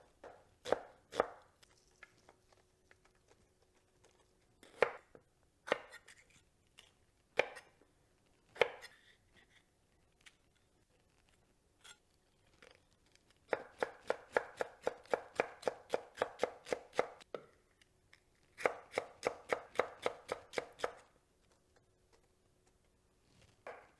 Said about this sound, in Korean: 보라색 양파 좀 썰어주고요